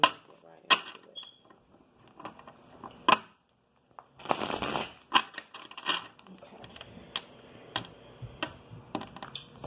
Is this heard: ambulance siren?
no